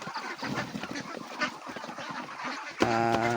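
Small, weak young ducks being fed rice bran give a steady run of nasal honking quacks close by, ending in a louder, sustained call.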